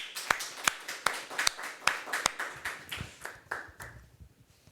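Audience at a tech conference applauding after a talk, a small group clapping in a quick irregular patter that thins out and fades within a few seconds.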